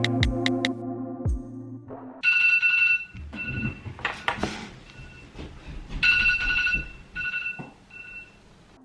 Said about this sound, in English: I didn't realise my alarm was still on snooze, hence why it kept ringing off